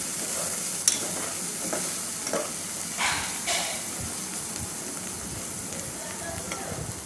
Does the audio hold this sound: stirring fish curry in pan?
yes